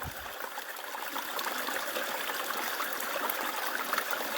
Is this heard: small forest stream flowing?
yes